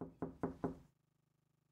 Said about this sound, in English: Wait, is that a knock?